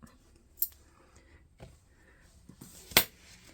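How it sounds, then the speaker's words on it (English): Scissors snip through material for a tabletop treescape, giving two sharp, close cuts spaced a couple of seconds apart over faint background rustle. "So I'm just going to take a pair of scissors and I'm just going to come in here"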